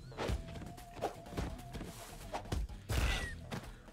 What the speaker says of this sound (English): I was outside of the explosion!